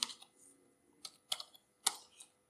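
Keys tapped on a computer keyboard while typing a Python comment, a few scattered clicks in small bursts, close and fairly faint, with no talk.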